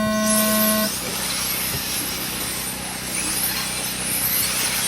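Modified touring cars pulling away at the start of a live race, a sustained loud roar of several engines at close range with a steady broadband wash and a brief horn-like tone at the very beginning.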